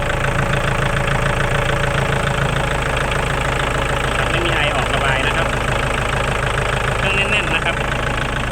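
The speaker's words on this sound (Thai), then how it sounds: "เสียงเครื่องนะครับ เดินเบาปกตินะครับมาตรฐานเลยนะครับ" A Kubota L4708SP tractor's diesel engine idles steadily at close range, a constant low chugging rumble with a fast regular beat that never changes throughout.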